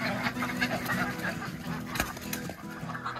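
A mixed flock of ducks shut in a pen, with scattered quacks and bird calls over a steady low background hum, moderately close but fairly quiet.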